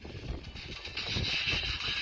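FM radio static during sporadic E propagation while on a cruise, a hissing noise floor that swells and fades as the signal drifts in and out, brightening in the second half.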